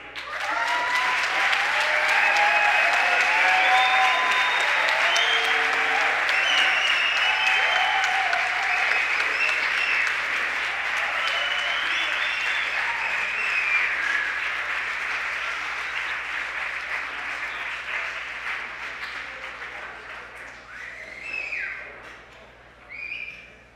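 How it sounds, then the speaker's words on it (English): A room full of people gives loud, sustained applause for youth advisor candidates, with whistles and cheering voices over the clapping, which slowly fades toward the end. "please give them all a round of applause"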